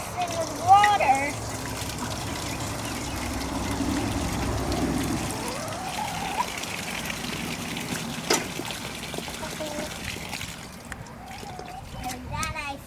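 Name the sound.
filling a container with water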